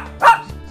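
A single short, high yip-like bark from a six-month-old Shih Tzu puppy, close and clear over a quiet indoor background.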